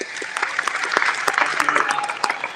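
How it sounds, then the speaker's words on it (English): Applause from a conference audience at a large business event, a fairly close, brisk patter of clapping with a few sharper individual claps standing out, continuing steadily for a couple of seconds. "So how about another round of applause?"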